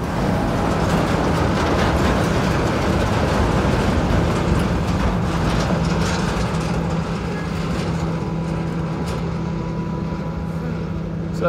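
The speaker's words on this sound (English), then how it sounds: "there's a road train came past us, maybe going 30 to 40 k's an hour" A heavy road train rumbles past nearby at about 30 to 40 km/h on the Plenty Highway in outback Australia, with a loud, steady engine drone that slowly fades.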